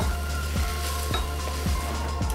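Bulgogi meat sizzles steadily as it browns in a hot pan, a constant loud fry broken by regular stirring scrapes about every half second, with no voices.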